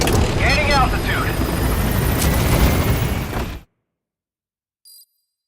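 The Pequod helicopter in Metal Gear Solid V gains altitude, a loud steady rotor whir under radio-style voices and beeping, cutting to silence after about three and a half seconds, then a brief faint chirp.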